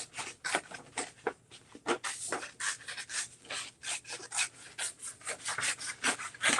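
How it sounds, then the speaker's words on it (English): Scissors cut a long tongue shape out of paper for a craft, giving a quick series of close, crisp snips and rustles that repeat unevenly, with no talking. "I'm cutting a long tongue with my scissors, just like that."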